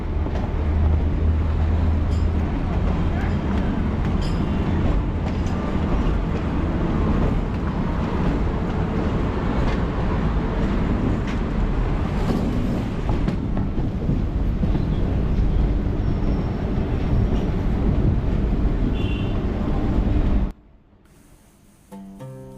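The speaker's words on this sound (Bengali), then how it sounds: "হাওড়া স্টেশন থেকে হাওড়া বেলুড় মঠ লোকাল কিন্তু ছেড়ে দিয়েছে" The Howrah–Belur Math local train, having left Howrah station, runs with a loud, steady rolling rumble and wind buffeting for about twenty seconds before the noise cuts off abruptly.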